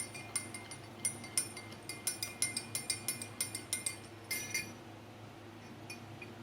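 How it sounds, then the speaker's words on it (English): Spoon clinking against a glass while stirring a warm yeast mixture, a steady series of light, bright taps close by over a quiet background hum, no speech. "Gonna stir it."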